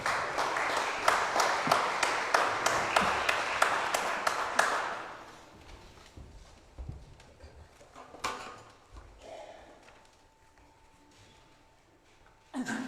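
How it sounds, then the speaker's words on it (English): Applause from a concert audience for a voice choir leader in a church at St Faith's Havant, steady dense clapping for about five seconds that then stops abruptly, leaving quiet hall noise with a few scattered knocks. "Let's give him a round of applause, please"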